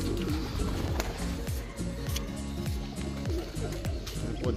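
Racing pigeons land at the loft after a race, with soft cooing, wing flutters and shuffling feet mixed into busy, cluttered background noise.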